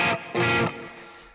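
Electric guitar run through a Keeley Halo patch of very fast delays that smear into a spring-reverb-like wash: two loud chord bursts with a lingering shimmering tail, no voices.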